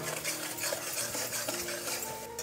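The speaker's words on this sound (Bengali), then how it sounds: "এবার মশলাটাকে একটু ভালো মতো কষে নিতে হবে, কাঁচা গন্ধ যাওয়া পর্যন্ত" Kashmiri chili and turmeric masala stir-fried in a pan over medium-low heat for a Pabda fish jhal, with steady scraping of a spatula and a soft sizzle, close and continuous.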